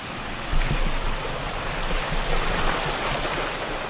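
A bicycle pedals through flood water in a normally dry spillway in Leominster, Massachusetts, with steady close rushing and splashing water and wind noise throughout, and no voices.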